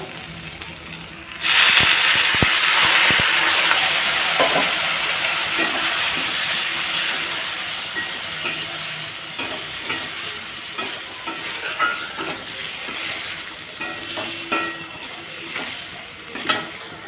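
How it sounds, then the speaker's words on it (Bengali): Loud, steady sizzling of nigella seed paste sautéing in a pan for an okra dish, with stirring scrapes and clinks throughout; hiss surges at the start then settles to a continuous crackle. "কালো জিরেটা দিয়ে হালকা একটু কষিয়ে নেব"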